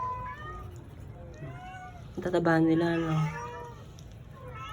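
Several cats eating together meow repeatedly, a mix of short and drawn-out cries, one loud close meow standing out midway, while someone talks softly in the background.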